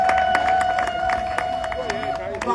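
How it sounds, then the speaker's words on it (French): Crowd applause at a church teaching gathering in Yaoundé, with dense clapping and cheering, a sustained tonal hum and babble of voices running underneath throughout. "Applaudissons pour nous-mêmes."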